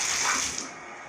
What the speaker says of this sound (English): Water comes out into the shower.